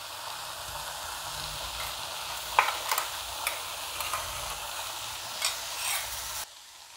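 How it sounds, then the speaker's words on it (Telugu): Moringa leaf fry with peanut powder is stirred in a hot pan, a steady sizzle broken by scattered scraping and tapping strokes of a spoon, ending abruptly near the close. "వేరుశనగ పప్పుల పొడి వేసిన తర్వాత ఒకసారి బాగా ఆకుకంట పట్టేటట్టు కలిపేసుకున్నామంటే"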